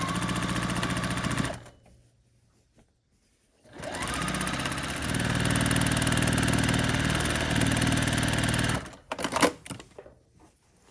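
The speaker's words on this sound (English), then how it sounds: "once I have this border, which I have pieced, I just need to sew it on" A sewing machine stitching a pieced border onto a baby-sized plus quilt, steady close mechanical whirring in two long runs with a brief stop between, then a few irregular clunks as it halts.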